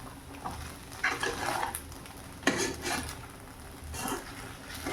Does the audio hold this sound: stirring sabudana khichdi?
yes